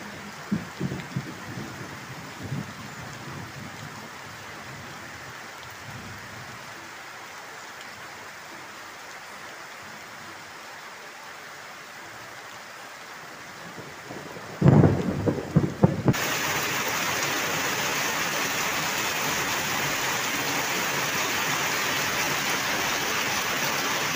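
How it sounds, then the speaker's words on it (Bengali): Heavy village downpour during a thunderstorm. Faint rain and a few light knocks come first, then a loud close thunderclap is followed by a sudden, steady roar of heavy rain that carries on to the end. "মুষলধারে বৃষ্টি নেমেছে আর সাথে হচ্ছে বজ্রপাত"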